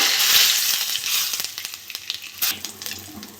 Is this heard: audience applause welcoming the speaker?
no